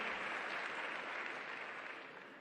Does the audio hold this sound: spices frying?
no